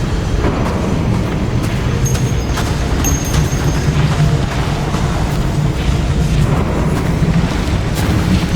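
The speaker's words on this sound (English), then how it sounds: "Powerful explosion. I think it derailed the train." A powerful explosion derails a train in the video game Nobody Wants to Die: a loud, sustained booming rumble with a dense low roar and rattling, continuous throughout with no pauses.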